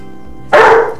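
A single loud, close dog bark bursts out suddenly midway through an otherwise quiet moment, trailing off briefly, with no talking.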